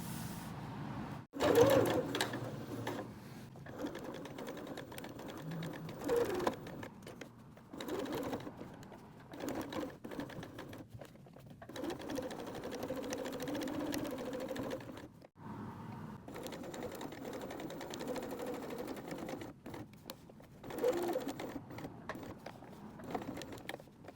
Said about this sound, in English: Now I'm going to be top stitching around the hole butterfly, and that's going to be stitching up this little hole.